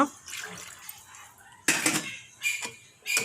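Water is poured from a glass into a pan of chicken kulambu, giving splashy pouring bursts and clatters of a pot or spoon in quick uneven spurts, close by and with no talk.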